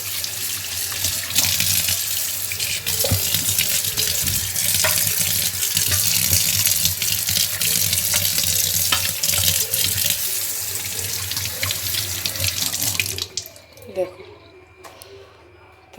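Tap water runs steadily into a kitchen sink during cleaning with lemon, a continuous hiss and splash lasting most of the time before cutting off near the end, with brief handling clatter afterward.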